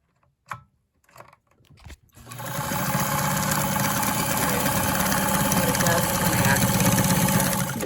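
A vintage Super zigzag sewing machine sits quiet through a few soft clicks before starting up into a loud, continuous mechanical whir of rapid stitching that runs steadily to the end.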